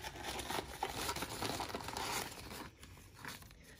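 Plastic and cardboard packaging around a Logitech G715 wireless gaming keyboard crinkles and rustles close by, dense and busy at first, then thinning into softer scattered crackles toward the end.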